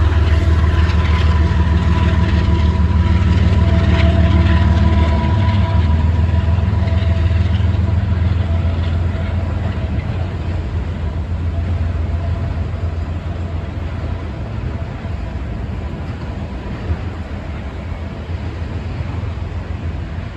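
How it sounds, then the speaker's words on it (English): A southbound Canadian National intermodal train rolls past in South Bend, Indiana, a loud continuous low rumble of engines and wheels with steady broadband roar that eases slightly over twenty seconds, no talk. "Our final train in South Bend for the Saturday would be a southbound Canadian National Intermodal train"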